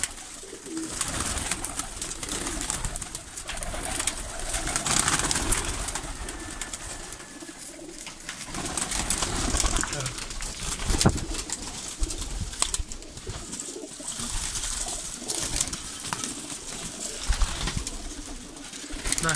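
Pigeons cooing in a loft with young birds, repeated throaty coos overlapping across nearly twenty seconds amid rustling and other bird calls, fairly close, with no talk.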